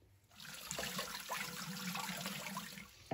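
Leeks are rinsed under a running kitchen tap, a steady close rush and splash of water with small shifts as the vegetables move in the stream, alone without speech.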